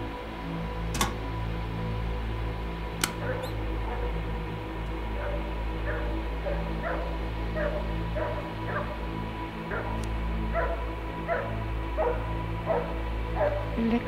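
A dog in the video game The Nightfall barks repeatedly in short, evenly spaced yaps with whimpering between them, steady and fairly close over a low ambient game hum, with a few sharp clicks; no talking.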